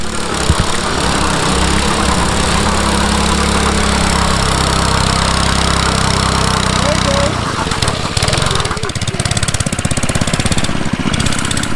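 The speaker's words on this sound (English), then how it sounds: "They're warming up the tires." Cars revving hard at a quarter-mile drag start line while warming up their tires, a loud continuous engine roar and rumble that shifts to rough, choppy exhaust pulses toward the end.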